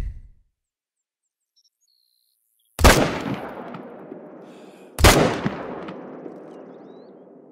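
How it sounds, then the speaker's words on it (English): Two loud, sharp rifle shots from an M1 ring out in the hunting game theHunter: Call of the Wild, a couple of seconds apart, each trailing off in a long echoing decay over quiet outdoor ambience. "I guess we're gonna take a shot here."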